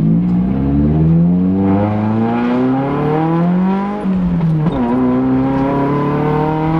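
A car engine revs and climbs through the gears while driving, its pitch rising steadily, dipping at a shift, then rising again, loud and close throughout.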